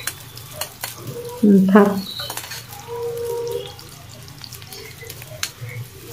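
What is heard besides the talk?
onions frying in oil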